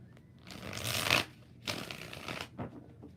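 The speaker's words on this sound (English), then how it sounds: "4 shuffles." Tarot cards riffled in several short shuffling bursts, close and fairly quiet, separated by brief pauses.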